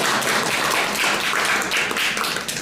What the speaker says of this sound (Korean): 박수해 주시고